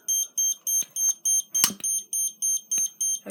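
Fire alarm system test with a smoke detector triggered: a loud, evenly pulsed electronic horn repeats about ten times, with a few clicks and knocks between beats.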